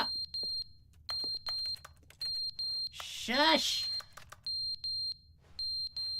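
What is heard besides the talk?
beeping alarm in video game The Stanley Parable Ultra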